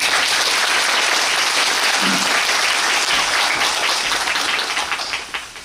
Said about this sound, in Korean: 연주자분들한테 박수 한 번만 쳐주세요